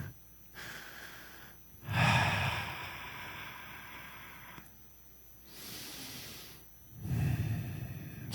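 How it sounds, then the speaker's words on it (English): A speaker at a conference draws slow, deep breaths in and out, each a soft airy rush with quiet gaps between, close to the microphone and alone without talk. "just going to take a moment and breathe"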